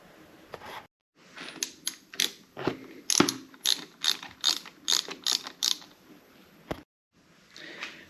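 Sharp ratchet clicks come in quick bursts and steady runs, close and loud, as bolts on a Kawasaki Z900 handlebar are loosened, with short pauses between strokes.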